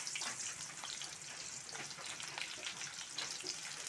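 Onions fry in hot oil in a kadai, a continuous gentle sizzle with scattered crackles, heard close but fairly quiet and with no one speaking.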